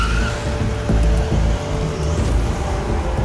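A getaway car used by two thieves speeds off, its engine roaring loudly and continuously up close, with a faint tire squeal mixed into the rumble.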